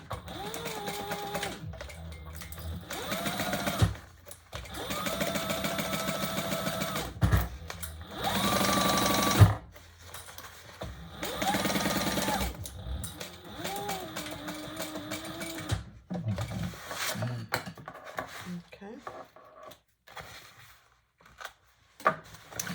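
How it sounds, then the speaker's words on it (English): A sewing machine stitches a tote bag seam in bursts of rapid mechanical whirring, starting and stopping several times with brief quiet gaps between runs, close and clear. "So this one I'm going to just sew all the way"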